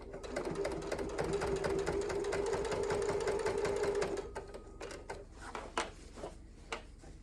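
A home sewing machine runs a steady, rapid stitching buzz close by for about four seconds, then stops, followed by scattered light clicks and handling noises as fabric is shifted.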